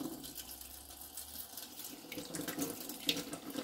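Tap water runs into a sink while pork casings are rinsed, a steady close splashing stream with small knocks of handling near the end and no talk.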